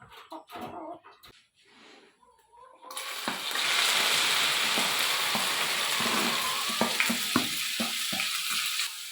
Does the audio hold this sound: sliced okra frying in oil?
yes